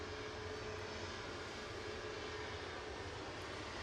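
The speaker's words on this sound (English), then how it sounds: "Heading off to Alicante with flight 879 A321 Neo for Jet2" A Jet2 Airbus A321neo lines up for departure at Manchester Airport, its engines giving a steady, unbroken roar at close range with no voices.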